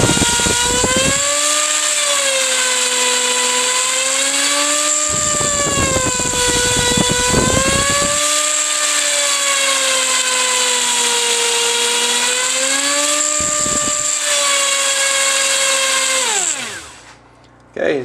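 A Trex 250 RC helicopter with a Chinese nut and bolt fitted on the tail pushrod spins up to a loud, high whine that holds steady, wavering slightly in pitch, then winds down at the end.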